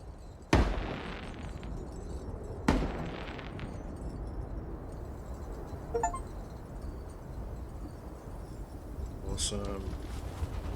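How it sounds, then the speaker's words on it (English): Fireworks going off in the video game Cairn: two sharp booming bursts early on, then fainter crackling pops and a brief whistling fizz near the end, all over a steady low rumble of game ambience. "Let's light fireworks."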